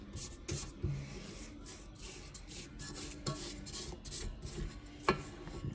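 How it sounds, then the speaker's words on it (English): A spatula scrapes down the sides and bottom of a stand mixer bowl of spritz cookie dough, making quiet continuous rubbing and scraping with a few sharper taps, close and faint. "I'm going to scrape the bowl down"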